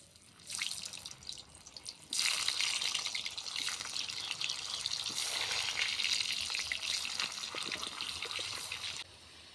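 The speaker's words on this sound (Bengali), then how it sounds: "ওই তেলেই ভেজে নেব আলু।" Potatoes frying in oil in a village kitchen for chicken biryani: a steady, hissing sizzle that swells after a brief lull and continues evenly, close and fairly loud, then cuts off near the end.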